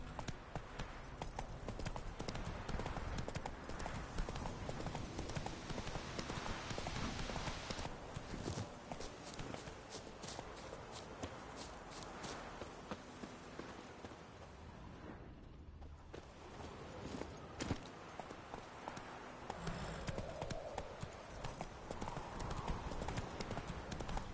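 Roach, a horse in The Witcher 3, walks with steady, rhythmic clip-clop hoofbeats at moderate volume over a game ambience. The hoofbeats pause briefly midway and then carry on.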